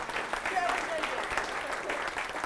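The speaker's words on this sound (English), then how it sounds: "Give them a louder round of applause." Audience applause for two military spouses standing at a speaking event, a steady broadband patter of clapping filling the room, with faint voices and whistle-like tones mixed in.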